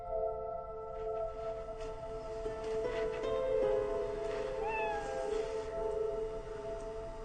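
A broken toy cat gives a thin, wavering electronic meow that holds steady tones and wobbles for several seconds in a quiet room.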